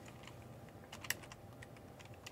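Keys clatter on a computer keyboard in quick, irregular taps, with one sharper keystroke standing out, fairly faint and close with no talk over it.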